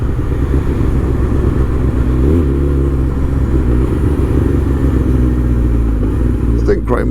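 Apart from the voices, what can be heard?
supercharged Kawasaki ZZR1400 motorcycle engine popping on overrun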